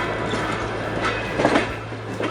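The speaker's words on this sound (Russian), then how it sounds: "Ритмичный стук колес – это первое, что у нас ассоциируется с поездом." Train wheels clattering on rails, a loud continuous rolling rumble with steady rhythmic knocking and a few sharper clacks, heard from on board.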